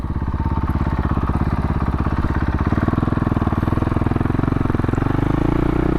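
Close, loud engine of an off-road motorcycle fitted with a Rekluse automatic clutch, riding with a steady pulsing beat that shifts to a deeper, heavier throb partway through as the revs change, and no talking.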